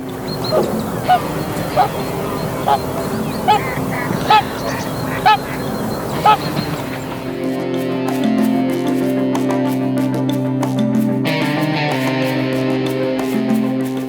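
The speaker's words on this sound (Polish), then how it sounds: "coraz więcej gęsi i żurawi zostaje tutaj na zimę" Repeated goose honks call out over a busy outdoor wetland background, several spaced calls in the first half before a steadier noisy stretch takes over.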